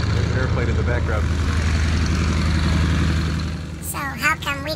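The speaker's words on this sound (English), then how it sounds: "There's an airplane in the background." A propeller airplane drones steadily in the background at an outdoor fly-in event, a constant low engine hum with a person speaking over it near the end.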